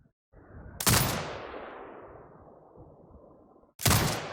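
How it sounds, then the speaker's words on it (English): A turret in a shooting video game fires two heavy booming blasts several seconds apart, the first trailing into a long rumbling decay, both loud and close with no voices. "Exit binocular mode and command the turret to fire."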